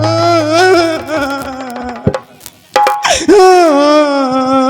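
A man wails and cries loudly in a Hindi nautanki folk drama performance, long drawn-out sobbing moans that break off briefly and resume, close and dominant.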